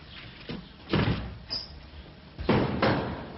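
Several heavy thuds of fists pounding on a door, arriving in two pairs of strong knocks with lighter blows between, close and forceful, with no voices over them.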